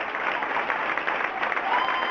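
A hall audience gives a concert band of 1960s rock musicians a burst of applause, a dense, steady wash of many hands clapping at close range throughout.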